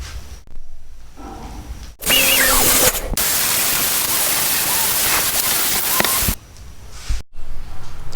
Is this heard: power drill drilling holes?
yes